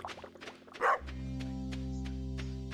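A dog barks in the farming game Stardew Valley, with one short, loud yip standing out near the start against looping game music and light effects, and no talk over it.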